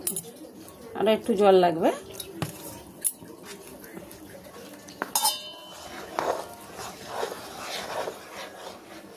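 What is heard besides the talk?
spoon mixing gram flour (besan) batter in a bowl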